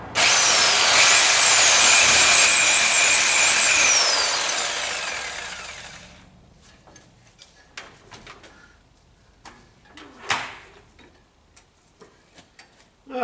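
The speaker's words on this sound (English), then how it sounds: "And this is going to be a lot of grinding." A power grinder cuts into wood while shaping a custom trigger guard: a loud, steady, high grinding whine for about six seconds, then it stops and gives way to scattered quieter scrapes and knocks. No voices.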